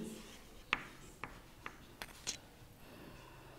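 A pen or pencil writes a word by hand in a quiet room, giving a few short soft scratches and taps spaced out over a few seconds, faint and close, with no talking.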